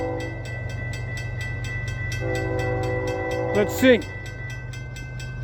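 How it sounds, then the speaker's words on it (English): A Florida East Coast Railway train rolls through the CR 206 grade crossing in St. Augustine, Florida, with a steady low rumble and rhythmic clatter, a loud horn blast rising midway, and a brief spoken voice. "There's a smaller train, a faster train."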